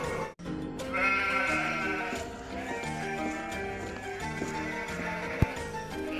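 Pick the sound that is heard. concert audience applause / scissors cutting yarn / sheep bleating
sheep bleating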